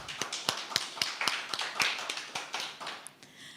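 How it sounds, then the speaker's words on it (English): A round of applause from the audience at a Global Entrepreneurship Week opening ceremony in Curaçao, a brief burst of scattered claps in an irregular rhythm that stays fairly steady before thinning out. "a round of applause"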